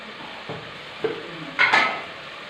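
Mutton pieces fry in oil under a soft, steady sizzle, broken by a few distinct stirring scrapes and a louder clatter of a spoon against the pan near the end.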